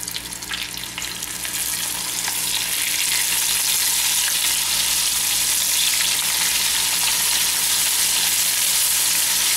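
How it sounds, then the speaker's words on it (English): Onion rings deep frying in hot vegetable oil at about 375 degrees give off a loud, continuous, dense sizzle and crackle that holds steady throughout, with no talking. "Just going to drop the onion rings in."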